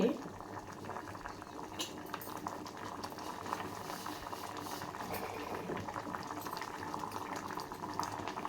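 Apricots simmer in a pot on the stove for a khubani ka meetha dessert, giving off a quiet, continuous bubbling and gentle liquid burbling that stays soft and steady from start to finish.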